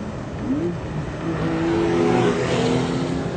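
A Porsche 911 Targa 4S engine roars continuously with a deep, throaty exhaust, valves opened in Sport Plus mode, the revs climbing and holding as it accelerates, loud and steady throughout.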